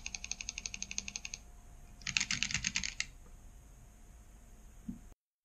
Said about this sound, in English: And I can still use H button as a regular button on a keyboard.